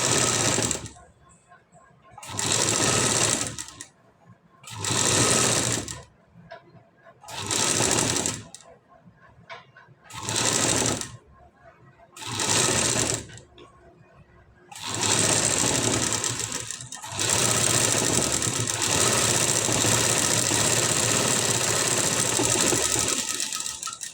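A sewing machine stitches the back design of a blouse in repeated short bursts of whirring, about seven stops and starts, then runs in a long continuous stretch, loud and close.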